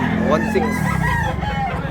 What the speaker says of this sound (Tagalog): Napakamurang manok.